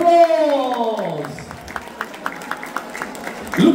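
An audience at a Nepalese community Dashain and Tihar celebration claps for artists on stage; a voice trails off, then a string of evenly spaced, fairly loud claps follows before a louder burst at the end.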